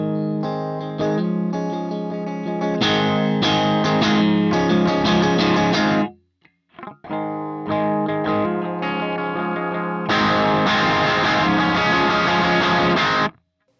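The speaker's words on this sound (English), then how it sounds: "Let's see how the tone cleans up and breaks up according to how soft or hard I push the string." An electric guitar played through a Harley Benton DNAFx GiT Pro multi-effects unit rings out in sustained, loud overdriven chords that shift from cleaner to gritty breakup, split by a short pause before a final harder-struck passage.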